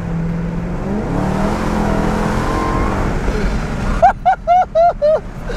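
A Dodge Challenger SRT Hellcat engine roars and climbs in pitch, then a series of five short, sharp revs blip out in quick succession, loud and close.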